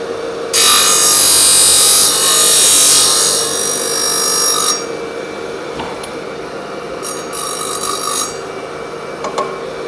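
The tip end of a golf club shaft is cut down in a workshop: one loud, harsh cutting burst of about four seconds, then quieter, intermittent scraping and handling noises close by.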